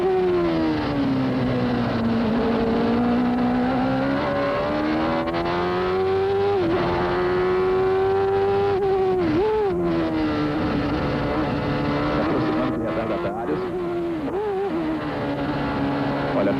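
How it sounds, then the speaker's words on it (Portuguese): An Indy race car engine at the 1993 Mid-Ohio Grand Prix sings loudly and continuously, its pitch rising and falling through gear changes as the car laps nearby, no voices over it. "Vamos sentir a saúde do motor do Mansell"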